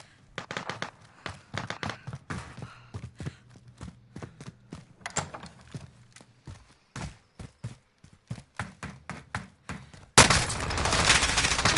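Gunfire in Call of Duty: Warzone (Modern Warfare), solo match: irregular bursts of sharp, close shots that come in rapid clusters with short gaps, then a sudden loud rushing blast in the last seconds.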